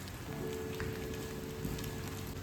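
Rain falling outdoors as a quiet, steady hiss of drops on surfaces, with a faint hum underneath.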